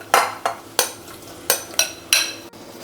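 Broccoli and potato are stirred in a pan for soup, a spoon scraping and clinking against the metal in six or seven sharp strokes at an uneven rhythm, close and fairly loud with no voices.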